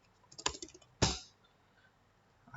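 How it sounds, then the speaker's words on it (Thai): Two quick bursts of keystrokes on a computer keyboard while entering a Raspberry Pi configuration command, short crisp clicks, fairly close and alone. "หลังจากนั้นให้พิมพ์ sudo raspberry ขีด config"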